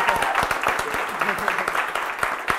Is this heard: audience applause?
yes